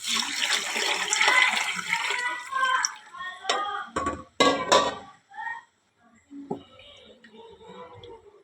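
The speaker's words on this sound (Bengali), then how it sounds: "চালটা ভাজা হয়ে গেছে, আমি এখন একটু পানি দিয়ে দিচ্ছি।" Water poured into a khichuri pot over fried rice with turmeric and salt gives a couple of short splashing gushes mid-clip, surrounded by softer kitchen clatter and stirring.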